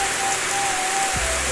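Steady rain falls during the rainy season, a dense, even hiss of drops on surfaces throughout, with no voices over it.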